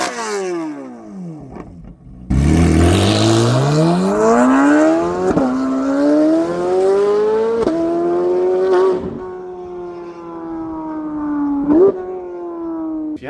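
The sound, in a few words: Corvette C8 Z06 with modified exhaust revving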